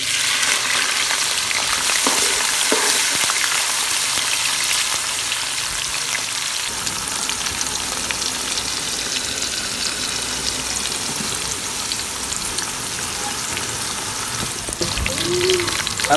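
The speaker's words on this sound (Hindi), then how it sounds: "गर्म मसाले में थोड़ा फ्राई करांगे। हम शामिल करांगे प्याज।" Onions fry with whole spices, including cardamom, cinnamon and black pepper, in hot oil for Karachi biryani, giving a steady, close sizzle and crackle that lasts throughout.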